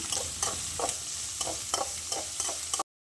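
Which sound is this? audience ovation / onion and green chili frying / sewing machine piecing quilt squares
onion and green chili frying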